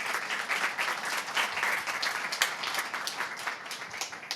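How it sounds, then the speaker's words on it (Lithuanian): Audience at an awards ceremony applauding the award commission members, steady continuous clapping from a sizeable crowd at moderate loudness, with no talk over it. "Visiems plojimas."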